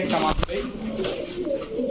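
Pakistani blood pigeons with throat markings coo in a short close-up burst of low, rounded calls, with a brief voice-like sound partway through.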